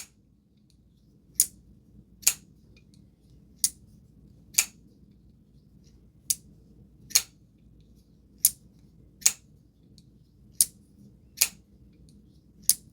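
A series of sharp metallic clicks, a dozen or so, spaced irregularly as an Ameight folding pocket knife blade is flicked open and snapped shut, close and alone.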